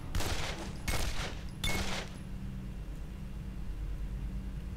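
Gunfire in the horror video game Condemned: Criminal Origins, three loud close bursts of shots about a second apart, followed by a low rumbling room tone.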